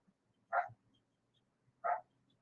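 Dogs barking outside a home, two short single barks about a second apart, heard at a distance and fairly faint, with quiet background between them.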